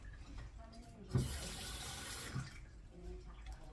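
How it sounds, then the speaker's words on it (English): Tap water running into a small plastic food container: a soft splashing gush rising for about a second and a half, then tapering off, with quiet room noise around it. "add a little bit of water."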